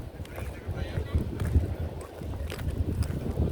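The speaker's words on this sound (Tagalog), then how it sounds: "Sarap ng hangin." Gusty wind by the sea buffets the microphone with low rumbling, loud and close, under faint background voices.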